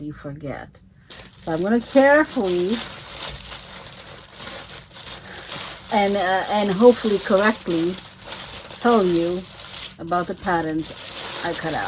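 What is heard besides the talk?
rustling tracing paper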